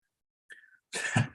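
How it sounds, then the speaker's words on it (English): A single sneeze bursts out loudly up close, preceded by a short faint breathy intake. "I was going to sneeze because I said the word work."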